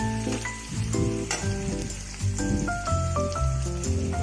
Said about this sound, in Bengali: পেঁয়াজ কুচিটা দিয়ে দিচ্ছি।